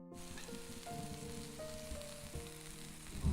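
Quiet, steady sizzling hiss of steak cooking over an open fire outdoors in winter wilderness, with some tonal hum and faint background noise, no voices.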